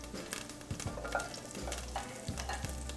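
Rosemary sprigs and whole garlic sizzle in melted butter in a pan, a close, steady frying hiss broken by a few soft thumps and scrapes of stirring, with no talk.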